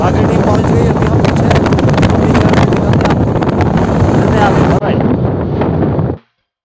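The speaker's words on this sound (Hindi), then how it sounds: "अभी हम बाइक पे हैं।" Wind roars and buffets across the microphone while two people ride a motorbike, loud and constant, with voices talking over it before the sound cuts off abruptly.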